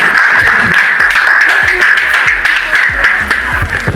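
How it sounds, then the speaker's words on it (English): An audience at a formal event in Nigeria applauds, giving loud, steady, dense clapping throughout with a constant high tone running beneath it. "Please another round of applause for His Excellency."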